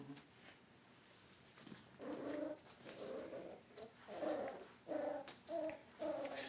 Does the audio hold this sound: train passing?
no